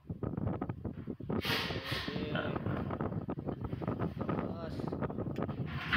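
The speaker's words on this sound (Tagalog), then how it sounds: "Lakas pa ng hangin dyan guys." Strong wind buffets the microphone in heavy, rumbling gusts on a high mountaintop in Tanay, Rizal, while a person talks over it.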